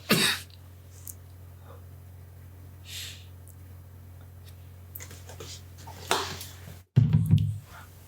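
Coughing after a hit of hash: a few scattered, close coughs and throat clearings break an otherwise quiet room, the last ones a rougher, heavier cluster near the end.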